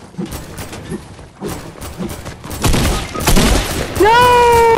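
Shotgun blasts in a video game land as a series of dull thumping shots in an irregular rhythm, growing into a loud dense burst, followed at the end by a rising tonal whine.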